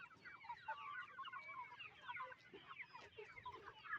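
Free-range desi chickens cluck softly and continuously, several hens overlapping in a quiet farmyard with no talking.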